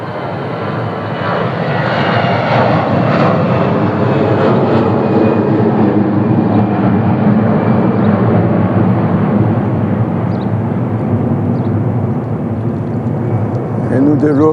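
A fixed-wing airplane passes overhead as a long, steady engine roar that holds loud throughout, with a voice speaking quietly beneath it.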